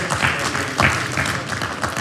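A church congregation at Comunidad Cristiana La Sal claps in a short, dense burst of applause, with a few scattered voices mixed in.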